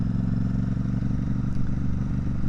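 A motorbike is ridden along a road, its engine a steady, close mid-pitched drone with rumble and light mechanical clatter, no voices over it.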